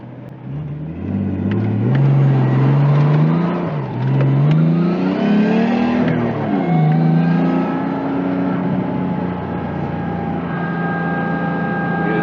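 A Nissan 240SX S13 with a swapped RB20DET engine revs and accelerates loudly on loose gravel, pitch rising and dipping as gears shift, then settling into a steady drone; no sliding is clearly audible.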